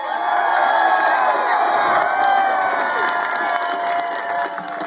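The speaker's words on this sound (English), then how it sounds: "Give her a round of applause." A rally crowd in Utah cheers, whoops and applauds continuously, a loud, dense wash of voices and clapping from many people.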